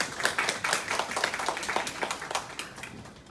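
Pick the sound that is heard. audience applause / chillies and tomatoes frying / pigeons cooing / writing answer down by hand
audience applause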